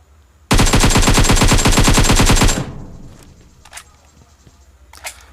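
Gunfire in the mobile game PUBG Mobile: a loud, rapid automatic burst for about two seconds, then fading echoes and a couple of sharper distant shots afterward.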